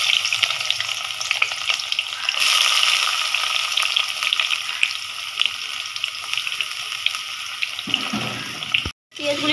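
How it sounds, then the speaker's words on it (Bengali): Onions and chillies fry in a hot wok, a loud, steady sizzle with crackles and a burst of stirring, continuing until a brief cut near the end. "এই তো কড়াইটা গরম হয়ে গেছে, আমি এখন পেঁয়াজ মরিচগুলি দিয়ে দিব"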